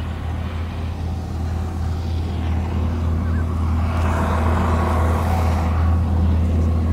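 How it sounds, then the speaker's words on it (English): A tractor's heavy engine rumbles steadily and grows louder as it drives past nearby, its low drone dominating throughout. "Just wait till the tractor goes by."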